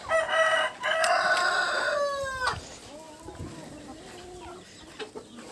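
A rooster crows loudly nearby, followed by softer hen clucks and chicken calls in an outdoor farmyard where ducklings and chicks are also kept.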